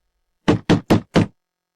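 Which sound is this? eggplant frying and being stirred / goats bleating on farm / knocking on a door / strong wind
knocking on a door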